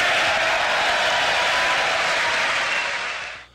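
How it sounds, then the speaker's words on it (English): Sustained applause from a large audience for a president's speech, a dense, steady wash of clapping that holds loud and even before fading quickly at the end. "I got a lot bigger applause than what that little clip showed."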